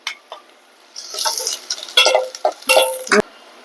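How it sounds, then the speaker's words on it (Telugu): Onions and chillies frying in a pan on the stove, a spoon stirring and scraping against the pan with soft sizzling underneath, in short irregular bursts up close. "ఆనియన్ వేసి ఫ్రై చేసేసుకోవాలి."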